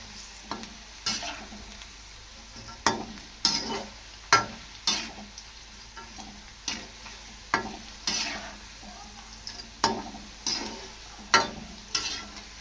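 Ragi flour pakodas with onion fry in hot oil, a soft steady bubbling broken by regular sharp clacks of a spoon or slotted ladle against the pan, close up and alone without voices.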